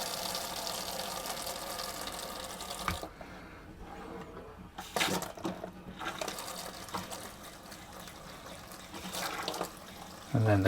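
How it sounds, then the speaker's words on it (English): Hot water runs from a motorhome tap during fresh water system sanitising with Purisol, a continuous hiss and gush that cuts off briefly midway, then restarts with sputtering surges and bumps of handling. "so that should be fresh water coming through now. Get the hot water coming through first."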